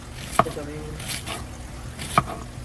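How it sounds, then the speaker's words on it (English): A knife chops a Vidalia onion on a cutting board in a home kitchen, with two sharp, close knocks spaced well apart and quiet room tone between them. "We're going to chop our Vidalia onion into pieces"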